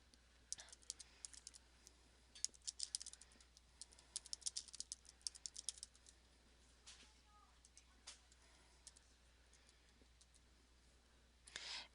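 Someone types on a computer keyboard in a quiet room, with quick, irregular bursts of soft key clicks that pause now and then and come back.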